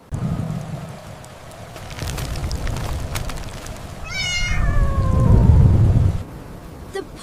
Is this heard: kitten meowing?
yes